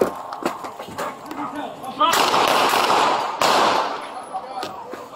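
Two sharp gunshots fired by a police officer during an armed confrontation, loud and close with broad bursts, amid shouting and talk.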